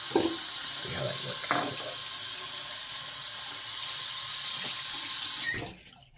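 Tap water runs steadily into a sink to warm a shaving brush, a close, continuous splashing stream with a few light knocks, before it abruptly stops near the end.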